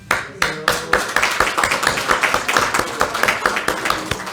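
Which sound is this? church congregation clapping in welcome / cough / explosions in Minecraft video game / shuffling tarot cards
church congregation clapping in welcome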